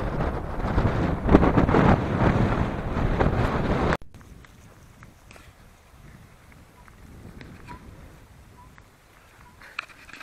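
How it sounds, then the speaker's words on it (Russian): Strong wind buffets the microphone with a loud roar for a few seconds beside water whipped into waves, then drops away to quieter outdoor ambience with faint scattered knocks. "Ветер сильный, волны он какие поднимает."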